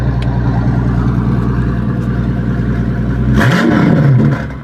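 A concept car's engine idles loudly up close, then a sharp rev near the end swells into a rising, falling roar before cutting off, with no voices.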